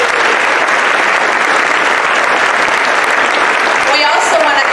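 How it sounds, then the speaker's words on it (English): A large school audience at a live-streamed event breaks into loud, dense, sustained applause, a continuous wash of clapping with a few faint voices near the end. "Can you give them a big round of applause?"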